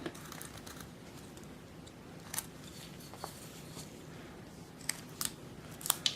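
A carving knife cuts and pries at a wooden Santa head ornament, giving faint, close scraping and crisp small snaps scattered over a quiet background.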